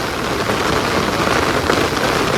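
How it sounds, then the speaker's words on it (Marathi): Heavy rain pours steadily, a dense, loud hiss of drops drumming on surfaces with no break and no voices. "पाऊस काय ऐकत नाही."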